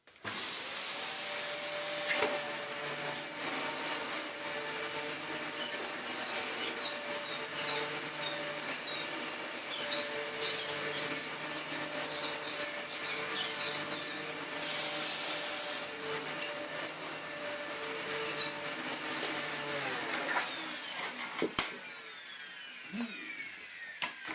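A Dyson DC14 upright vacuum cleaner with a non-clutched brushroll runs loud and close with a steady high-pitched motor whine and droning hum, then winds down and falls silent near the end after a clunk.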